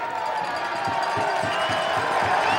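A Union football crowd in a stadium applauds a player leaving the game, a steady wash of clapping and cheering with faint dull thumps underneath, no talk.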